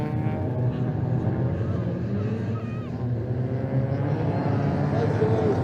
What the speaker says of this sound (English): now I can hear engines behind me